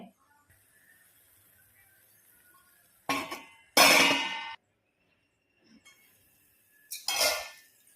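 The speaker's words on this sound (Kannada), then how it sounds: "ಇದಕ್ಕೆ ಮುಚ್ಚಳ ಮುಚ್ಚಲಿಕ್ಕೆ" Lid set onto a new clay roti tawa, a few sharp clanks and rattling clinks in separate bursts with quiet gaps between them.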